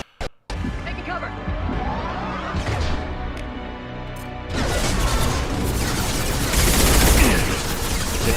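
Gunfire and crashing impacts in a firefight in the video game Mass Effect 2 Legendary Edition, a dense loud barrage that builds and holds steady, with voices mixed in.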